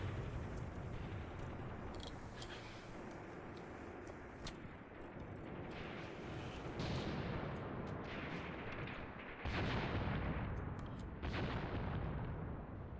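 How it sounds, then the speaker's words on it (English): Artillery fire in the war game Graviteam Tactics, with dense, continuous rumbling barrages and scattered sharp blasts, loud and sustained throughout, swelling heavier toward the end. "Is that artillery coming in?"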